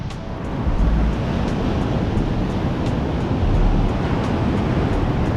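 Heavy surf breaks on a beach where someone is fishing, a steady, loud roar of waves with rumbling swells and gusts of wind buffeting the microphone, and no voices.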